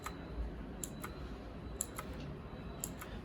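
A Cosmic Byte Firefly CB-GK-17 mechanical keyboard with blue clicky switches gives a few sharp, isolated clicks spaced irregularly over a steady hiss, close but quiet, with no talking.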